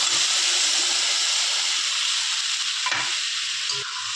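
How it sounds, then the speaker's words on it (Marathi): Chicken pieces go into a pan of hot oil with fried onion-garlic paste, setting off a loud, steady hiss of sizzling and steam, with a couple of short stirring knocks near the end. "आता मध्ये चिकन टाकून घेऊया"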